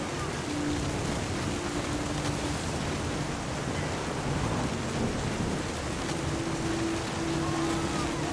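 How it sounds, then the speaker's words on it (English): A thunderstorm in the video game What Remains of Edith Finch: steady heavy rain hisses throughout while deep thunder rumbles roll beneath it, a dense, loud wash with no speech. "The thunder sounded much too close and full of angry power."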